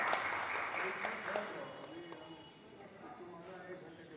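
Audience applause fills an auditorium at a Hindi literary award ceremony, a dense wash of clapping that is loudest at the start and gradually thins and fades over a few seconds.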